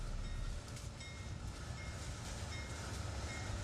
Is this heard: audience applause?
no